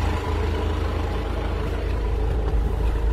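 A PTO T30 jetter truck's engine idles in park with a steady, close, low rumble that holds even throughout, with no talking.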